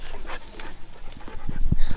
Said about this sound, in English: Oz is 13-year-old Chihuahua.